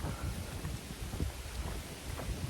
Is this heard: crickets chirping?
no